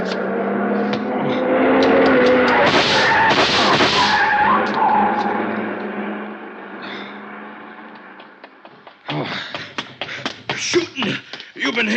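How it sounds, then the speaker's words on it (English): In a radio drama about a robbed safe, a car guns its engine and speeds away with loud tire skidding and a rising roar that fades into the distance, followed by voices talking. "See the car, the one that just gunned out."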